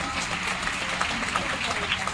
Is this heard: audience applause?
yes